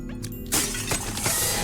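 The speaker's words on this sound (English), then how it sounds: "let's go smashing pots" Pots smashing in a video game, a sudden bright shattering crash followed by scattering breakage and debris, loud and close with no voices.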